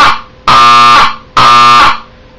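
A Wheelock 31-115 fire alarm horn blasts twice in a steady on-off pattern, loud, harsh and buzzing with a strong tonal drone, each blast about half a second long with short gaps between.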